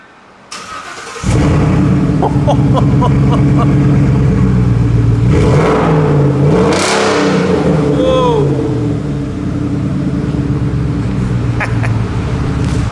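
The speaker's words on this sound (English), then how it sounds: "we gotta fire the truck up with no exhaust on" A Ford F150 truck fires up with no exhaust fitted, a sudden harsh crank and catch into a loud raw idle, then sharp revs rising and falling, with a brief exclamation from a voice.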